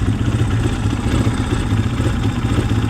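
A Honda CRF230 dirt bike with the choke half on runs rough as it struggles to idle, a close, steady mid-pitched engine clatter filling the whole stretch without any talk.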